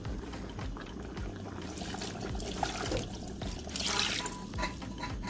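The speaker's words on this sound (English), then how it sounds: "You don't have to add too much water, just a little above the fish." Water poured from a tap or jug into a pot of tilapia fish pepper soup stock, a steady splashing stream with some gurgling and bubbling, fairly close and loud, without speech.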